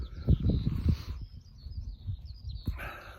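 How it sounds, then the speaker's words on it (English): Small birds trill and chirp in short bursts over a field, faint and distant against a low, rumbling background. "you can hear them trilling away in the background"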